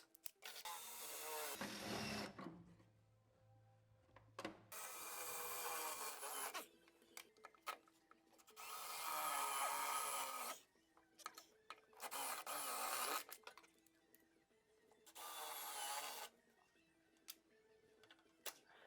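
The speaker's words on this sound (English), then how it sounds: "We just want to drill until we break the first layer of metal" Drill cutting through the first layer of sheet metal on a car engine bay bracket, several sustained loud whirring bursts separated by quiet pauses with small clicks and knocks.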